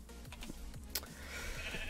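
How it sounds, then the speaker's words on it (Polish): Sheep in the Minecraft video game bleat faintly, with several short, quick calls in a row. "Chodź ty owco"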